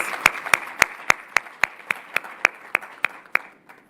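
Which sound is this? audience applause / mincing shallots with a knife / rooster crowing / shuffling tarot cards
audience applause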